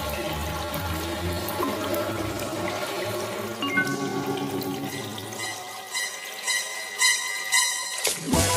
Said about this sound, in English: A nice, relaxing shower.